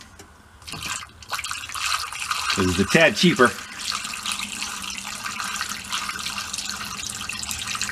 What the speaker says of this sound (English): We're just going to put water in it